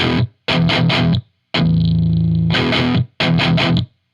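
A single-coil Telecaster through a Bugera JCM 900 clone amp plays loud distorted chords: a few short chugged stabs, a long sustained ringing chord, then more tight rhythmic hits.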